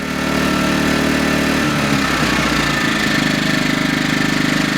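Yamaha EF2000is inverter generator running in eco mode, a steady, close engine drone with a fine mechanical buzz that settles to a slightly lower, even hum partway through, continuous with no voices.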